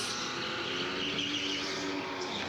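A racing go-kart on a track during practice holds a steady, continuous engine drone through a short stretch, with no talking.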